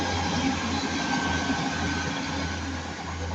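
A Class 195 train, unit 195119, passes at Ardwick, a steady loud rumble of wheels and engine that holds evenly throughout at close range.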